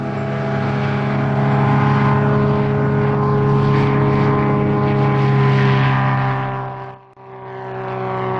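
An MCR-01 light sport propeller plane drones steadily and loudly nearby, its engine hum holding constant before briefly dipping near the end.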